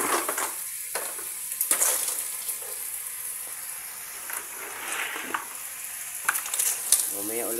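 Kangkong sautéing in a pan sizzles steadily while a utensil stirs it, adding intermittent scraping bursts and louder crackling surges close by.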